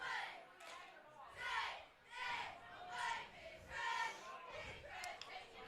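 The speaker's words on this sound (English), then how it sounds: "And Pittsfield's cheerleaders are cheering against them now." High school football cheerleaders for Pittsfield chant and cheer in rhythmic bursts from the stands during a game against Pleasant Plains, a crowd of voices rising and falling about once a second, moderately distant.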